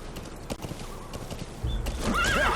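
In Metal Gear Solid 5: The Phantom Pain, a horse's hooves clip-clop in quick steps before it lets out a loud, rising whinny close by, with no talking.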